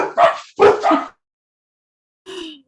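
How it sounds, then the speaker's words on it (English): Dogs barking indoors at a home during an online conference call, a few sharp yelps in two quick bursts, then a brief higher whimpering bark after a pause, fairly close and alone with no talk. "my dogs start to bark right then"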